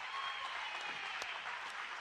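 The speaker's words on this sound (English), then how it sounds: "Gets a big round of applause from the Lady Leopard fans." Basketball fans at a senior girls' high school game fill the gym with steady applause, a continuous crowd clapping held at an even level throughout, with no clear speech over it.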